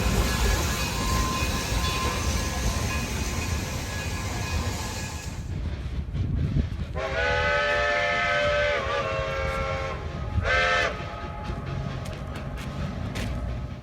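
A K-28 steam locomotive hauling a passenger train rumbles into Silverton on the Rio Grande line, a loud chugging roar that gives way to long sustained whistle blasts, then a second shorter whistle.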